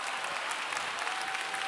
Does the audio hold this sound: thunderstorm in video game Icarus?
no